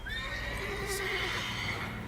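A mare whinnies in The Witcher 3: Wild Hunt, one drawn-out, wavering neigh rising and falling over a soft game ambience, fairly close and clear with no voices.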